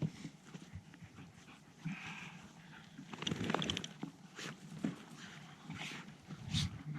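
Bird dogs run alongside a fat bike in cold rain across the badlands, their panting and quick paw steps mingling with tyre crunch and rattling gear in a busy, uneven patter.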